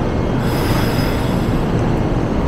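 A limited express train runs along the rails with a dense, steady rumble and a faint high wheel squeal, heard close from inside a carriage, with no talk.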